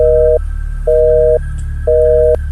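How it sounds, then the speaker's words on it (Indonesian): A telephone busy signal after a call cuts off: three loud, steady beeps of about half a second each, evenly spaced with short gaps, over a low hum. "koneksi telepon pun tiba-tiba terputus"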